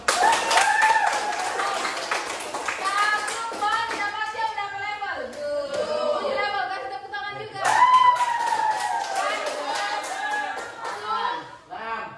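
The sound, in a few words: audience applause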